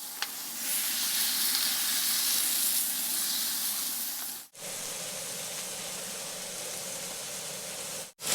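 A smashed beef burger pressed with white onions sizzles loudly on a hot griddle, a steady bright hiss broken by two brief cuts to silence.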